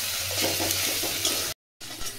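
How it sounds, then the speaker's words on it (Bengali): Onion paste with a pinch of salt fries in a pan with a steady, close sizzling hiss that cuts out abruptly for a moment, then resumes. "পেঁয়াজ বাটাটা দিয়ে খুব ভালো করে লাল লাল করে ভাজতে হবে"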